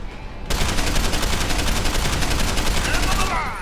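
Gunfire in the video game Deus Ex: Human Revolution breaks out as a sudden, loud, sustained burst of rapid automatic shots that continues for several seconds before easing slightly at the end.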